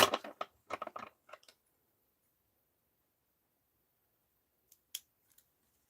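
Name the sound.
scissors cutting off a glued edge on a thrifted garment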